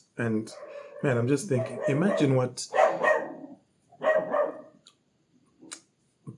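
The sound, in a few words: dogs barking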